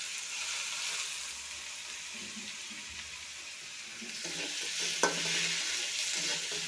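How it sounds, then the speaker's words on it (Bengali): Cabbage being fried and stirred in a pan after green chilli paste, a steady broadband sizzle with scraping and stirring strokes throughout, a sharper clatter about two-thirds through, no talking. "একটু ভাজা ভাজা করে নেব।"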